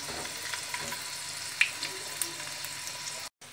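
Garlic frying in a pan for Hyderabadi tomato kut, a soft steady sizzle with a few faint clinks, ending abruptly in silence.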